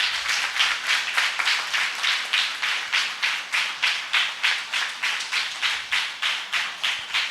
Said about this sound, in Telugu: మీ సంతోషాన్ని చప్పట్ల రూపంలో తెలపండి.